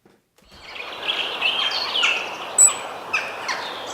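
Birdsong jingle of bright chirps and tweets rising from silence, with a sustained high warbling backdrop and a few sharp accented calls, heard alone without voices.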